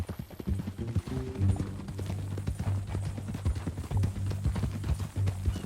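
Steady clip-clop of horse hooves trotting at an even rhythm in Red Dead Redemption 2, close and continuous over a low rumbling background.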